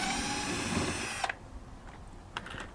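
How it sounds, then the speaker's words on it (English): A power drill drives screws into a wooden deck cleat under a shed roof, one steady whirring run for about a second, then brief short bursts, close by with no talking. "So I just put these in with screws."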